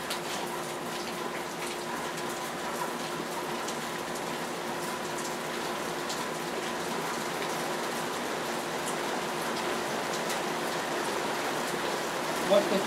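Rain leaks through a roof and comes into a room, a steady soft patter and trickle of water that holds evenly throughout, with a faint constant hum in the background.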